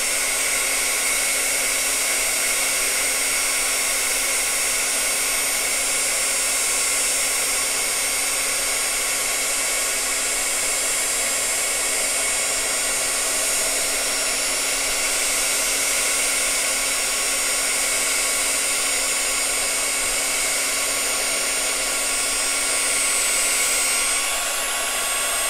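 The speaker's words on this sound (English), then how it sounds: "And we'll just heat emboss this." A heat embossing tool blows hot air over clear embossing powder on inked cardstock, a steady, loud whooshing hum that runs unbroken throughout with no talk.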